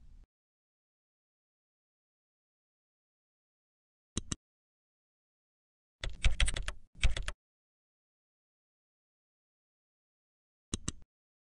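A group name being typed on a computer keyboard, heard as a brief click, then a short cluster of quick keystrokes, and one final key press, each set apart by silence.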